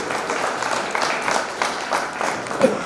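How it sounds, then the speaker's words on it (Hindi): Brief burst of audience clapping for a poet at an all-India Hindi poetry gathering, a kavi sammelan; moderately loud, with a slightly pulsing rhythm over about three seconds. "एक बार जोरदार तालियां हो जाए भाई अवनीश पाठक जी के लिए।"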